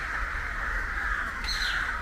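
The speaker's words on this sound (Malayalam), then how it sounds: "ഈ കാക്കയൊക്കെ എന്നാ കൂടെ ഭയങ്കര അലമ്പ്" Crows caw noisily around a home, the harsh calls carrying steadily and close over the whole brief moment with no one talking.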